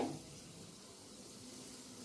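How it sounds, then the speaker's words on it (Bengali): Pointed gourd (potol) slices frying in hot oil in a pan for a Bengali potol recipe, a steady soft sizzle running throughout with a slightly louder burst at the start and no voices. "হালকা করে ভেজে নেব পটলটা ভাজতে দিয়ে"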